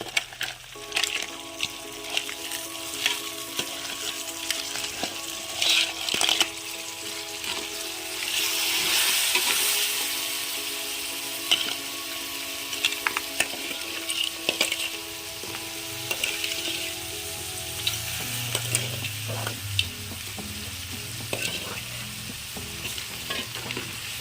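Crabs fry in hot oil in a pan, with a steady loud sizzle and stirring clatter that swells in the middle and then eases off, with no voices throughout.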